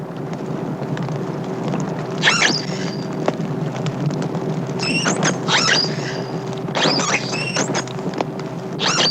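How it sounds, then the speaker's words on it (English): A dolphin's rising and falling communication whistles sound in several bursts over a constant hiss and low hum, with a faint steady tone underneath. "The communication whistles fall partly in the range of human hearing"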